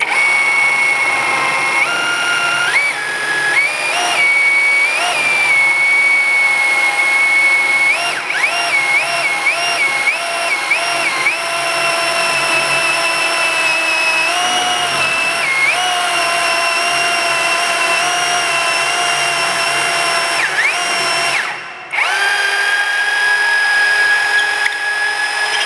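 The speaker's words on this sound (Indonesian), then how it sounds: "Langsung aja kita tes ini pakai mata bor 10 mili" A Doliz BD720 20V cordless rotary hammer drills with a 10 mm bit, a loud steady high whine held for about 25 seconds, its pitch dipping and wavering under load with a brief cut-out near the end, and no talking.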